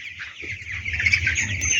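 Broiler chickens clucking and chirping together close by on a sand-floored poultry farm, a busy continuous flock chatter with no talking.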